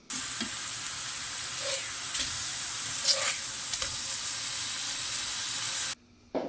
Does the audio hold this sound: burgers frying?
yes